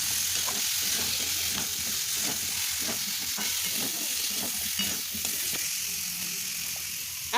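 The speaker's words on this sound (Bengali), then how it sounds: "এই দুটোকেও একটু ভাজা ভাজা করে মশলার সঙ্গে খুব সুন্দর করে মিশিয়ে নিতে হবে।" Cauliflower and carrot fry with spices in a pan for winter-vegetable bhuna khichuri, a steady close sizzle broken by repeated scraping stir strokes throughout.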